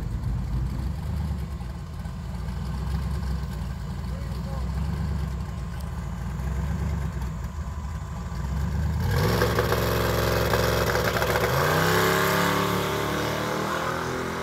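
Drag race car engine during a pass after a burnout, built with extra boost: a steady loud engine drone that rises into a harder revving roar partway through, heard from a distance.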